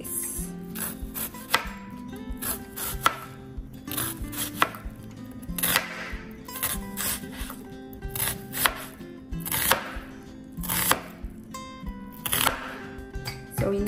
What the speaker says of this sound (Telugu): అలాగా పొడవు ముక్కల్లా కట్ చేసుకోవాలన్నమాట.